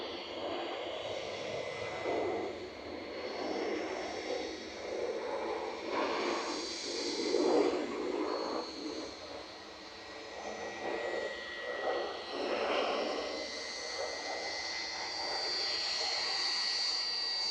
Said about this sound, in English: The Lufthansa took a very strange departure route.